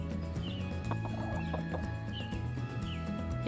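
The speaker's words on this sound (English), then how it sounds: "Nibbles, are you a chicken?" A pet hen named Nibbles clucks in short, repeated bursts close by during garden planting, her soft calls rising over a steady low background hum, with no talk in between.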